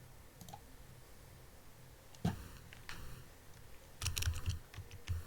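Computer keyboard typing while PHP code is written, with sparse light clicks at first, then a loud clatter and a quicker run of keystrokes at the close, near and alone.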